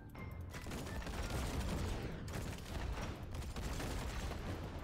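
Tank shotgun-shell fire in the Tanks a Lot multiplayer battle arena game on Android: a dense, continuous barrage of rapid gunshot bursts and booms, loud and steady throughout with no talk.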